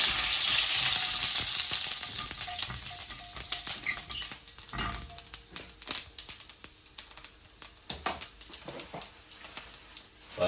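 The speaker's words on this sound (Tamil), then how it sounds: "போட்டு வதக்குவோம்" Fenugreek and cumin seeds sauté in hot oil with a loud, steady sizzle that eases off, followed by scattered sharp pops and stirring scrapes close by.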